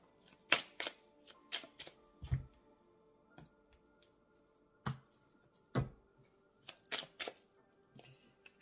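Oracle cards being shuffled and laid down during a tarot-style reading, quiet close papery flicks and taps in irregular bursts separated by near silence.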